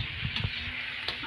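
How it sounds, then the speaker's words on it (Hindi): Hot oil sizzles steadily as cumin seeds fry for a dal tempering, with a few brief crackles and stirring clinks over the continuous hiss. "महाराज जी का तड़का लग रहा है जीरे में"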